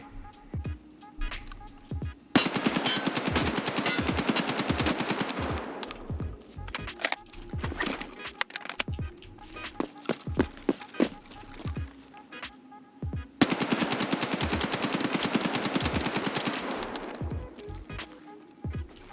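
Rapid automatic gunfire in the video game Escape from Tarkov, two long sustained bursts of dense cracking shots heard close, separated by scattered single shots, clicks and quieter handling sounds.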